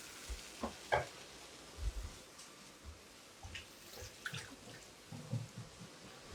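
Water added to a curry in a pan on the stove, faint sizzling and stirring scrapes with a few soft splashes and clinks, quiet and close with no talk.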